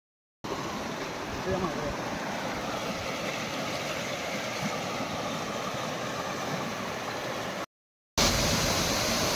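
Dainthlen waterfall in Cherrapunji rushes with a steady, broad roar of falling water that fills the scene, cuts out briefly near the end, and then comes back louder.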